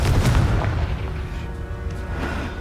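A Confringo blasting spell explodes in Hogwarts Legacy with a loud, deep boom that rolls and fades over a couple of seconds, followed by a lingering rumble.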